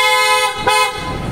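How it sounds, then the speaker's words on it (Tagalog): Toyota Fortuner fitted with two pairs of PIAA horns giving one loud, close, sustained blast with a brief dip in the middle, alone. "Testing natin ulit yung horn ni sir."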